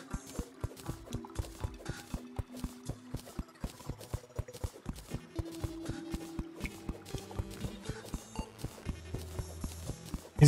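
In the Terraria video game, a unicorn gallops with a steady, even clip-clop of hooves, quick regular beats running throughout, set against game music.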